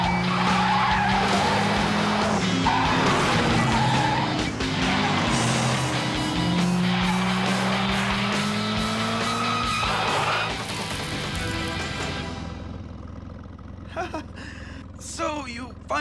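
Cartoon car skidding hard under braking in a racing setting, a long loud tire squeal with gliding pitch over engine roar for about ten seconds, then fading into scattered clatter, with voices talking over it.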